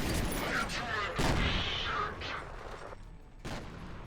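Grenade blasts in the shooter game F.E.A.R., loud broadband bursts and rumbling booms layered with gunfire, with a voice talking over the din.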